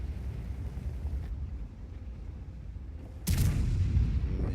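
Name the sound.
Obj 705A tank gun firing in World of Tanks video game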